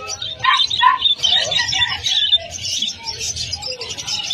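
Caged finches and parakeets at a Malabon pet market chirp and tweet in quick, busy bursts close by, with a low murmur of market noise underneath.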